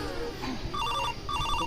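A telephone rings in two short electronic trill bursts, fairly close and clear, over a faint background murmur in a rural village setting.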